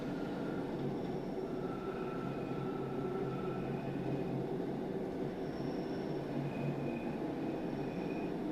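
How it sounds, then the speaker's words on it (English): Bakerloo line London Underground train running in Train Sim World 2, a steady loud rumble of wheels and motors with faint high whines, continuous throughout and with no talking. "This is the Bakerloo line train to Elephant and Castle."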